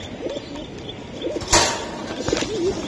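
Pigeons, including Giribaz and Budapest breeds, cooing nearby in repeated rolling coos with short gaps, joined by a sharp flap or clap partway through and steady background noise.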